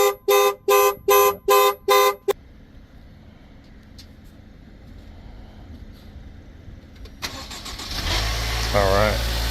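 Land Rover Discovery Sport on a jump start: a rapid burst of beeps or horn toots, a stretch of near quiet with faint clicks, then the engine catches and settles into a steady idle with a person talking over it.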